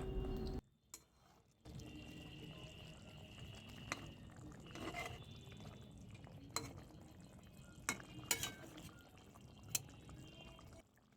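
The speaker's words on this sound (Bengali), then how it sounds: "আরশে মাছগুলো দেওয়ার পর আঁচটা কমিয়ে হালকা হাতে সামান্য একটু নাড়াচাড়া করে নিতে হবে" Parshe fish being gently stirred in a pan over low heat: faint, soft scraping and occasional sharper utensil taps against the pan, quiet and sparse.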